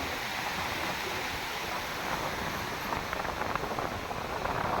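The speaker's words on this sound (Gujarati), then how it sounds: "આ હિરાણા નદી છે બે કાંઠે આવી ગઈ છે ભાઈ પાણીનો પ્રવાહ છે બહુ મોટો" A steady, broad rush of the flooded Hiran River, running bank to bank near Somnath, fills the whole stretch, constant and fairly close, with no talking.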